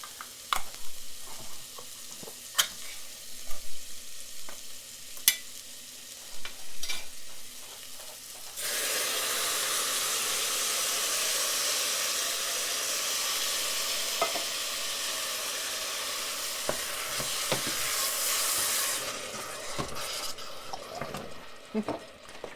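Tomatoes tipped into a pot of caramelized vegetables set off a loud, broad sizzle lasting about ten seconds, after quieter frying with sharp utensil clicks, then fading back to scattered stirring knocks.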